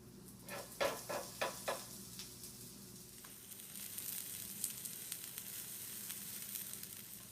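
Okonomiyaki cooking on a griddle, a steady close sizzle throughout, opened by a few sharp tapping scrapes of a utensil in quick succession, with no talking.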